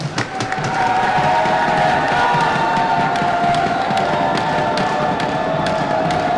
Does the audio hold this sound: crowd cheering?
yes